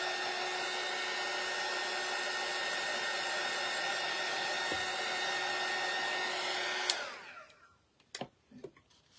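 A hair dryer blows steadily and loudly, drying paint on a craft door hanger kit, then cuts off near the end, leaving a few soft handling clicks.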